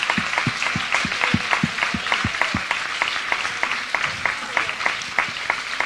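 An audience claps for a speaker in a steady, even rhythm, the sharp claps sounding fairly close, with a faint voice behind them.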